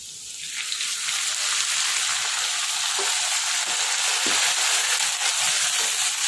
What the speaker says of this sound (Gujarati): હવે 1 ચમચી આદુ લસણ મરચાંની પેસ્ટ એડ કરીશું. શેકી લઈશું આપણે પહેલાં એને